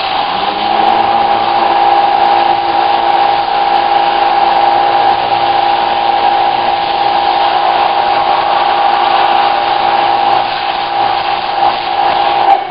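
A pressure washer blasts a screen printing screen clean of gummy, stringy emulsion, giving a loud, steady hiss and roar that runs unbroken from start to finish with no voices.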